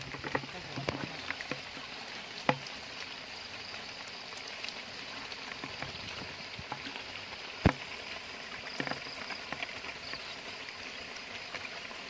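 Rain falls steadily in a soft wash over a full canal, with scattered louder drips and taps striking nearby surfaces now and then.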